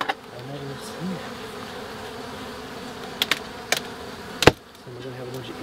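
Honey bees buzz steadily around an urban backyard hive, with several close, loud buzzing passes from individual bees flying near, set against a low continuous hum.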